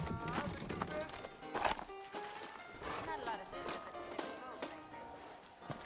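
Horses trotting in the video game Red Dead Redemption, a steady rhythmic clip-clop of hooves running under game music and someone talking.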